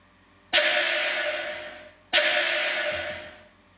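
A tonal snare drum sample from a producer's sample pack fires twice, alone and close, each crisp attack giving way to a long bright, slightly pitched ringing tail.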